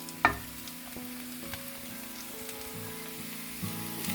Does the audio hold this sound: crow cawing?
no